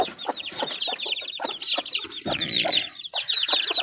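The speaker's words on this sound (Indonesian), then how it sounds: "Anak ayam." A crowd of chicks cheeping continuously, rapid high peeps overlapping close by, with occasional lower clucks underneath.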